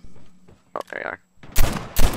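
Rifle gunfire in the mobile shooter game COD Mobile: loud, close bursts of rapid shots in the second half, preceded by brief game sounds and a voice speaking.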